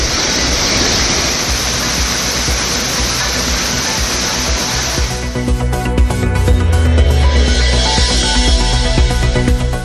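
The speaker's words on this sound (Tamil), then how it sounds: "ஒகேனக்கல் காவிரி ஆற்றில் நீர்வரத்து அதிகரிப்பு. 300 கனஅடியாக இருந்த நீர்வரத்து 5000 கனஅடியாக உயர்ந்ததால் ஆர்ப்பரிக்கும் அருவிகள்." Roaring waterfalls of the Kaveri river at Hogenakkal after the water flow surged: loud, dense, continuous rushing water throughout, shifting to a slightly deeper, more turbulent churn partway through.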